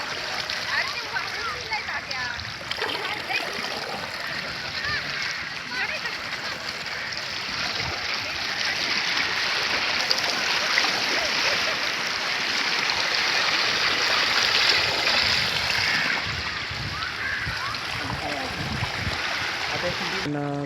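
Sea waves roll in and wash continuously at Dadar Chowpatty beach during a ghat immersion, a loud, surging surf noise that swells midway, with people talking over it.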